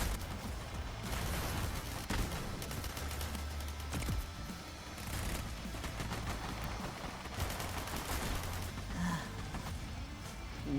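Gunfire from a video game trailer, a steady stream of dense shots and bursts running through the whole stretch, fairly loud and mixed with rumbling effects.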